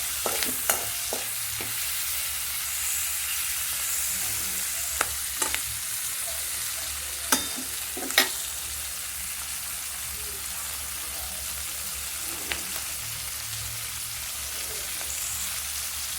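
Ingredients for paneer do pyaza sauté in a pan with a soft, steady sizzle. A spoon clicks against the pan a few times, sparsely and faintly, and no one speaks.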